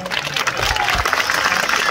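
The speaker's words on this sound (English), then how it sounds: "give him a big round of applause" A crowd at a bird show arena in Healesville claps steadily, a dense patter of applause continuing throughout, with a voice briefly audible underneath.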